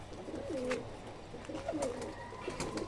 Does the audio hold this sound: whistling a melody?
no